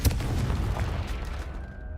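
Confringo blasting curse in Hogwarts Legacy going off as a sharp booming blast at the very start, followed by a rumbling decay that fades over the next two seconds.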